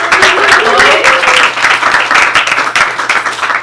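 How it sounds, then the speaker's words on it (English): Close, lively applause from a yoga-themed leadership talk audience welcoming first-time attendees, dense clapping with a few individual claps standing out, loud and continuous. "Round of applause for our first timers."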